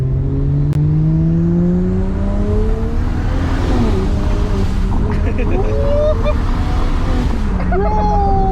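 Big-turbo BMW 335i with the N54 engine pulling hard, a loud, steady engine drone rising in pitch through the gears with brief shift dips, heard close from inside the car over road and wind noise.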